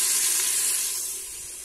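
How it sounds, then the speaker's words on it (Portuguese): Charque, a dried beef, fries in a pan with a steady, loud, close sizzle and hiss that eases slightly toward the end, with no talking. "nosso charque já está fritando"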